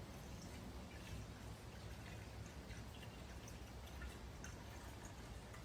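Acid pours steadily into an old 1969 Johnson Sea Horse outboard fuel tank, giving a soft, continuous trickling and splashing wash that stays faint and even throughout.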